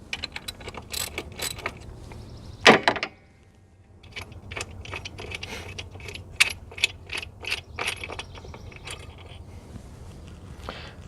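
Ratchet clicking steadily while loosening long bolts that hold the EGR valve to the intake of a Mitsubishi Montero Sport, close and crisp, with a brief clatter and a pause midway before the quick rapid clicks resume.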